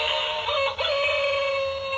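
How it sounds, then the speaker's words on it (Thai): A tinny, electronic rooster crow from a battery-powered toy chicken plays steadily for about two seconds, with a brief dip partway through. "chicken"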